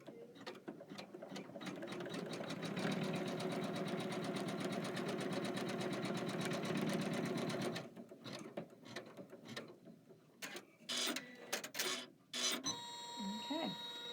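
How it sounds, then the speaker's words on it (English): A computerized embroidery machine stitches down a fabric appliqué piece for a Kimberbell embroidery-by-number project, whirring steadily for several seconds, then breaking into short mechanical clicks and bursts as it stops and moves. "step 14 on your machine is going to stitch that down"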